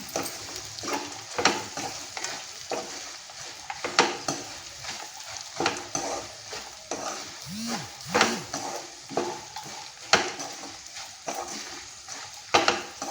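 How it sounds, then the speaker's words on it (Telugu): Fried ivy gourd pieces with peanuts get stirred in a sizzling pan, with steady frying hiss and repeated scraping strokes of a spoon against the metal. "దొండకాయ ముక్కలు వేసి ఒకసారి ఇలా కలిపేసుకున్నాము"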